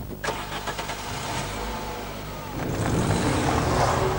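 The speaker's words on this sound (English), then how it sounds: "As you pull away, you're immediately aware that this is a much more conventional petrol engine" A Volkswagen Transporter van's petrol engine turns over and revs as it pulls away, the drone rising and growing louder toward the end.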